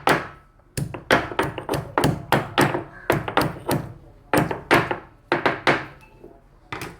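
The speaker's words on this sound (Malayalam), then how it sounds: "ഇഞ്ചിയും വെളുത്തുള്ളിയും കൂടെ ഞാൻ ഇതിനകത്തൊന്ന് ചതച്ചെടുക്കുന്നുണ്ട്" Ginger and garlic crushed together in a Kerala kitchen while making koorkka theeyal, a run of about twenty sharp, dull thunks in irregular bursts, close and fairly loud with brief pauses between groups and no talking.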